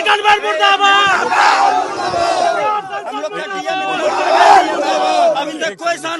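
A crowd of angry shopkeepers in Katihar after a fire shouts protest slogans against their MP and MLA, loud, overlapping voices rising and falling in chanted bursts throughout.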